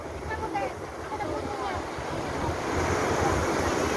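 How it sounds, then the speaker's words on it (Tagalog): Big ocean waves surge and crash continuously onto Shek O beach in bad weather, a loud steady roar of surf mixed with wind buffeting the microphone, with voices briefly heard near the start. "Grabe, ang lalaki ng alon."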